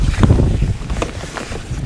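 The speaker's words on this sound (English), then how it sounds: "This wind's a bit of a pain." Wind blowing across an outdoor fishing lake during a live feeder-fishing match, a steady broadband rush with gusty swells, close to the microphone and buffeting it, with no talk.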